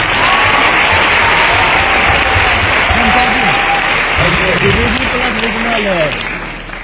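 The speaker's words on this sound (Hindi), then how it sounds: "एक बार जोरदार तालियां आप अपने लिए बजाइए।" Large audience at a corporate promotional speech event clapping loudly and continuously, with overlapping voices cheering and shouting through the clapping before it tapers slightly at the end.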